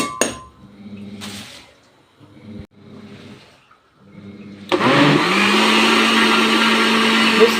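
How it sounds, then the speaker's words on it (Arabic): After a few clinks and light kitchen sounds, a blender starts up loudly and whirs steadily until the end, blending lentils for soup. "اهو بضربه في الخلاط"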